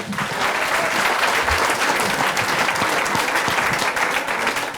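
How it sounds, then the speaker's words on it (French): Steady, dense applause from an audience at an oyster-shucking competition greets a contestant, filling the whole stretch with continuous clapping and no break. "Vous pouvez l'applaudir également."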